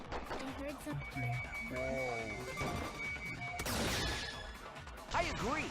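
A heavy crash in the Danganronpa 3 game, something heavy falling and slamming hard onto the floor, a loud burst sounding near, with voices talking around it.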